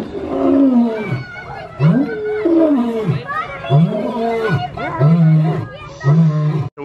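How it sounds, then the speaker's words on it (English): A lion roars at the San Diego Zoo in a loud, close series of deep, drawn-out grunting calls, about six in a row, each rising and falling in pitch. "We just got to hear a lion roar"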